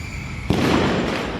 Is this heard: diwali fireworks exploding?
yes